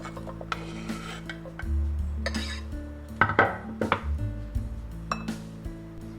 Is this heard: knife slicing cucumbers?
yes